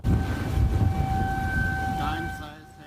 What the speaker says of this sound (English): Tornado sirens blaring, giving warning